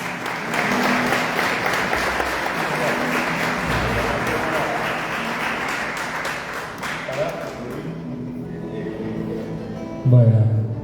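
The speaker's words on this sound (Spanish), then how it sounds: "Los recibimos con un fuerte aplauso." An audience at a folk culture event applauding the musicians, sustained clapping for most of the clip that tapers off, followed by a brief close voice and a low thump at the end.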